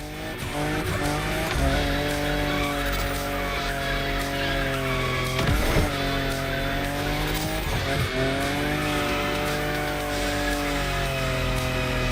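A drifting car in the racing game The Crew Motorfest, its engine droning with shifting pitch while tires squeal continuously through the corners, with a couple of sharp swells in the slide.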